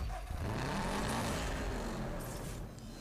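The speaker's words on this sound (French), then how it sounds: "Du coup on va se lancer avec la petite Subaru." Engine of a small Subaru car in the racing game Need for Speed Hot Pursuit Remastered, a steady broadband roar that stays loud and continuous throughout with slight changes in pitch.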